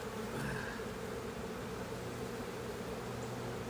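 Angry honeybees swarm and buzz during a hive inspection, a dense, steady drone of many wings close around the listener, continuous and fairly loud throughout with no voices.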